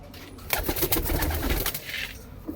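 A white-eyed male Malwai chhatri pigeon coos in a steady, close run of soft throaty calls, alone with no talk over it.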